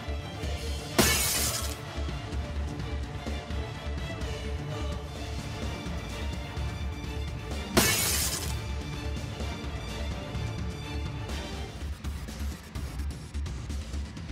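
Glass shatters twice in a Honkai Impact 3rd cutscene, each a sharp bright crash about seven seconds apart over a steady loud musical score.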